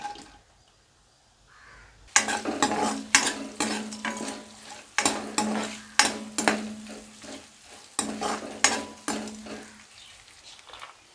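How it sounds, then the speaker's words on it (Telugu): Chopped onion and green chilli frying in a pan, a steady sizzle broken by repeated scraping stirs of a spoon against the metal, close and fairly loud after a quiet start. "ఇవి లైట్గా ఫ్రై చేసుకుందాం కట్ చేసుకున్న ఆనియన్ గ్రీన్ చిల్లీ"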